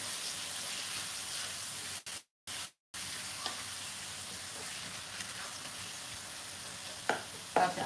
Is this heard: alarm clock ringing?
no